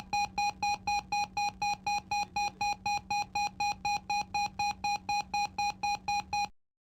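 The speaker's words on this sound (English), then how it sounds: "the evacuation indicators flash on the forward and aft attendant panels and the specific horn sound" Airbus A320 cabin evacuation alarm horn sounding a rapid, even series of about twenty loud electronic beeps at a fast regular pace, then cutting off abruptly.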